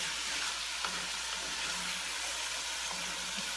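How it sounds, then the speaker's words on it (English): Homemade chili stirred in a pot, a soft continuous bubbling sizzle with faint scraping strokes of the spoon, steady and fairly quiet throughout, without talk. "Mix this around."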